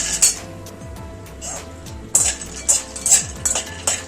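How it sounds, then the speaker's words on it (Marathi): Cashews roasting in ghee clink against the pan as a spoon stirs them, with scattered metallic scrapes and taps over a faint sizzle, close and fairly quiet. "अशा प्रकारे काजू पण परतून घ्यायचे"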